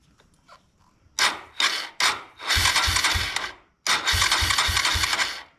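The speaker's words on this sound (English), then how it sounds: "Well, let's crank it." A 1999 Suzuki DR200 motorcycle being cranked on its electric starter: a few short grinding bursts, then two long rhythmic cranking runs with pulsing compression beats, loud and close, the engine not catching.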